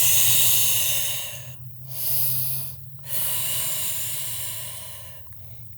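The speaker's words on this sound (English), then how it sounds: "Deep breaths." Slow, deep breathing during a yoga session: a long, loud hissing exhale opens the clip, broken by two brief pauses, then further steady breaths follow close to the microphone.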